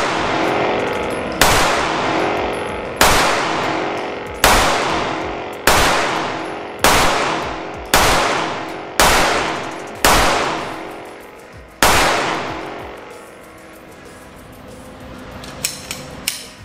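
Eight evenly spaced, sharp 9mm pistol shots ring out from a Polymer 80 PFS build on a range, about one shot every one and a half seconds, each loud crack decaying into a ringing tail, followed by quiet.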